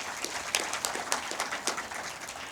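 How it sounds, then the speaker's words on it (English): An audience at a 2022 graduation ceremony claps for the graduates, with scattered individual claps standing out over a steady ongoing patter of applause at moderate loudness. "We can clap for them."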